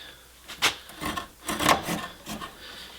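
A Silky F180 pocket saw cuts through wood in short, rasping strokes, about five uneven pulls close by, with no talk.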